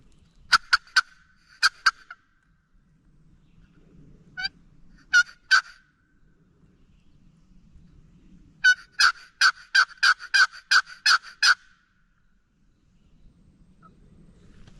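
Several bursts of wild turkey gobbling in Georgia, rapid rattling calls repeated in clusters at a moderate distance, with quiet pauses between.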